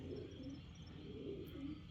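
A young racing pigeon coos softly in a loft, low repeated murmuring calls over a steady background hum, fairly faint and without speech.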